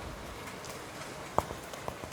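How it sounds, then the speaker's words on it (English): Heavy rain falls as a steady, dense hiss throughout, with a couple of louder drips or taps standing out near the end. "it's raining really, really, really bad right now"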